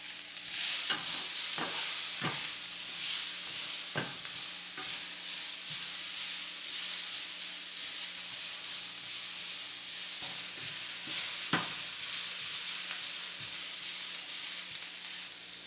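Green peppers and minced garlic sizzle in a hot pan for a Philly cheesesteak: a loud, steady frying hiss, broken now and then by sharp clacks of stirring, with no voices.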